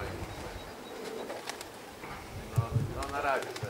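Racing pigeons arriving and landing at a loft of the PZHGP 0370 Żary branch, flying in against the wind: soft cooing and brief wing flaps over outdoor ambience, with a few sharper bird calls near the end.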